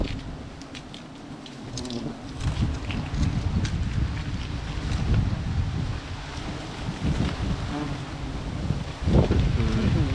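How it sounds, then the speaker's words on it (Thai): Strong wind gusting and buffeting the microphone during outdoor honey hunting near a bee nest, with rumbling gusts, faint insect buzzing and someone talking at times. "ลมแรง"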